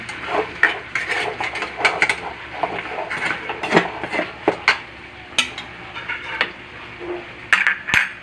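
A spoon scrapes and clacks steadily around a pot of kaldereta with oyster sauce, a run of close, irregular stirring knocks with faint sizzling beneath and no talking.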